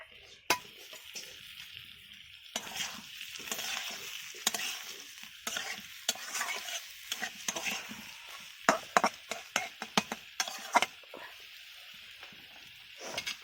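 Eggs go into hot oil in a pan, with a steady close sizzle of frying under repeated scraping and stirring strokes and a few sharp clanks against the pan toward the end.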